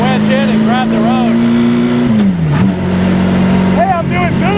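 A 1927 Bugatti Type 51 race car drives with a loud, steady engine drone. The pitch dips as the driver shifts, then settles back. People talk over the engine noise throughout.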